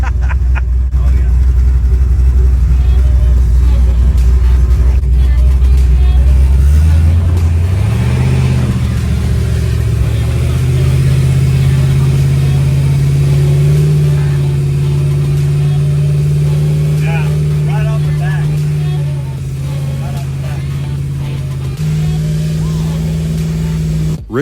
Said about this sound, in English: Richard's Chevy II is powered by a ProCharged 427 LS engine.